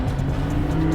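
A Porsche on a race track drones loudly and steadily from close up as it is turned through a chicane, with no break in the sound during the short burst.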